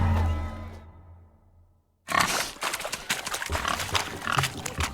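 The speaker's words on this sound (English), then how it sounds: "Look at the fools falling over themselves to catch a painted pig." Pigs in The Witcher 3 grunt and oink during a pig-catching race at a wedding feast, starting after a short quiet gap and going on as a busy, fairly loud run of squeals and snorts.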